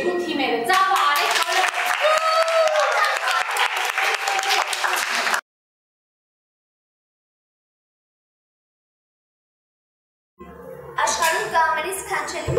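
Studio audience at a children's TV show applauds the winning teams, a burst of loud steady clapping with voices over it, then a sudden silence before the clapping returns briefly.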